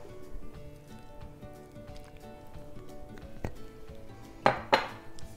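Utensils clink and scrape in a bowl while tabbouleh salad with mint flakes, salt, pepper and olive oil is mixed, with soft irregular clatter and two sharper knocks near the end.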